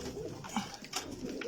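Rahmani breed pigeons coo in a loft, soft throaty coos in short overlapping bursts close to the listener.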